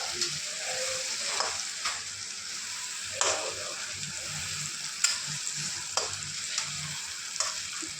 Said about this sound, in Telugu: కర్రీ లీవ్స్, పన్నీర్ ఇలా ఫ్రై చేసుకొని పక్కకు పెట్టుకోవాలి